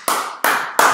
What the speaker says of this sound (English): We didn't expect this applause.